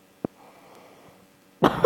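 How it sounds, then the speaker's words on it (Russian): A single short, sharp cough from a man streaming a Slither.io game, standing out briefly against low background noise before louder sound resumes near the end. "Извиняюсь за кашель."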